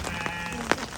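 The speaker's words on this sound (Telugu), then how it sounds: "ఓ మేకలు" A single short bleat from a goat on a rural farm, fairly close and clear, over light background noise.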